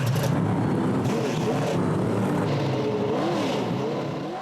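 Formula One stock cars from the BriSCA series race past with loud, continuous engine roar and rising and falling revs, several cars close by, the sound dense and steady throughout with a slight fade at the end.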